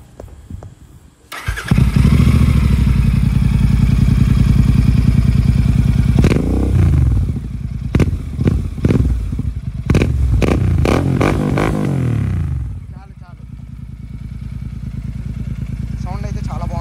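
A Royal Enfield Continental GT 650 fitted with an AEW 103 aftermarket exhaust cranks and fires up loudly close by, settling into a deep idle broken by several sharp throttle blips before dropping back to a steady rumble.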